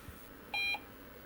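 A single short electronic beep sounds from an IBM PCjr computer at startup after a repair with new RAM chips, clean and steady, alone against a quiet room hum.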